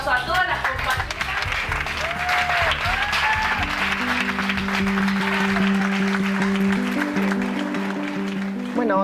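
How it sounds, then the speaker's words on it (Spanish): Loud, steady applause for trans cooperative members in Buenos Aires runs the full length, with music tones and talk layered over it. "Así que les vamos a dar un fuerte aplauso a todas las compañeras."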